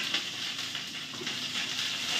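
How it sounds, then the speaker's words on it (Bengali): Onion and garlic fry in hot oil, a steady bright sizzle with faint crackles that stays even throughout, close and moderately loud. "তেল এখানে গরম হয়ে গেছে, পেঁয়াজ দিলাম"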